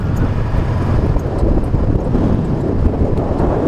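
Strong wind buffets the microphone on an exposed Outer Hebrides coast near a lighthouse, roaring loud and continuous, with a gusting low-frequency rumble and no voices.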